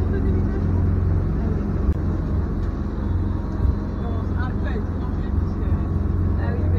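A motorboat engine runs steadily at about 2600 rpm in choppy swell, a continuous low drone with water noise throughout.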